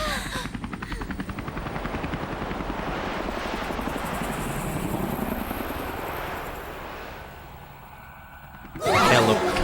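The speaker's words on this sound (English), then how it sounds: "A helicopter." A helicopter in the video game Persona 5 Royal, a steady loud rotor chop with engine whine that runs for most of the stretch, fades somewhat near the end, then swells with a sudden burst, no voices over it.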